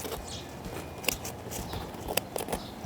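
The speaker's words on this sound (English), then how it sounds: "I came with the scissors just to both of these edges" Regular household scissors snip through the edges of baked leftover sourdough pizza dough from an Ooni Pro oven, giving a few faint, sharp cuts spaced about a second apart in a quiet kitchen.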